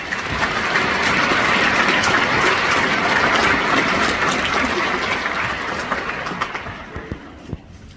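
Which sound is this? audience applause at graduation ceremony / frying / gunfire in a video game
audience applause at graduation ceremony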